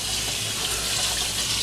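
Hot tap water runs steadily over a hot cast iron skillet in a kitchen sink, a continuous close hiss and splash with no pauses.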